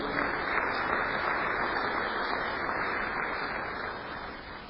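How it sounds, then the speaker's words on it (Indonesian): Applause from a congregation during a church service: steady, dense clapping that holds loud and even throughout, easing slightly toward the end. "Berikan tepuk tangan yang meriah buat Tuhan."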